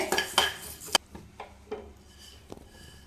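Coriander seeds dry roasted without oil in a pan while being stirred with a ladle, giving scraping strokes and metallic clinks, busier at first, then sparser taps and scrapes, close and fairly loud.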